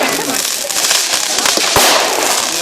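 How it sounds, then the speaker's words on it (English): Fireworks go off at the Potton public display, with a run of crackling pops and one sharp, loud bang near the end, while people nearby chatter throughout. "While the fireworks are going up"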